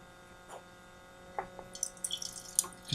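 Water trickling and splashing into an aluminum can on a kitchen counter, a few close drips and short pours building into brief splashy bursts, no voices.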